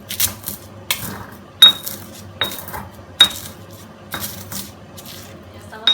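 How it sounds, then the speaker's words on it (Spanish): Toasted ingredient being ground by hand in a mortar that had held seasonings: irregular knocking and scraping strikes, several sharp clinks standing out from a steady gritty rub, close and fairly loud. "Vamos a moler un poquitito en el mismo mortero donde estaba haciendo los condimentos."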